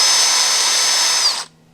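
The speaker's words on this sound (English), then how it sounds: "And what we'll do is just drill this out." A power drill whines at high speed, boring out a clogged 3D printer nozzle, then spins down and cuts off abruptly near the end, leaving a faint low hum.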